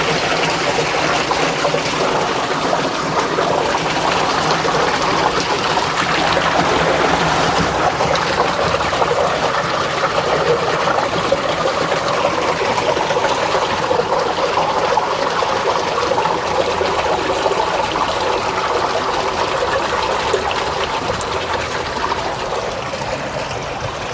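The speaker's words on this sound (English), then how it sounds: "open up the main inlet valve from the ponds. That's going to restore the water level in the tank." Water from ponds pours into a tank through an opened inlet valve, a steady close rushing and trickling that continues unbroken throughout.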